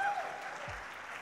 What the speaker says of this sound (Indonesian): Sekali lagi tepuk tangan buat Tuhan kita, saudara.